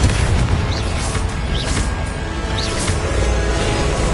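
The explosive Confringo spell in the video game Hogwarts Legacy: a dense, loud booming blast under a steady roar of game effects, with a few brief whooshing flourishes and no speech.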